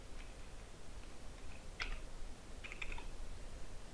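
Light keystrokes tap on a computer keyboard in a short scattered burst and then a small cluster, faint clicks over steady background hiss, no voices.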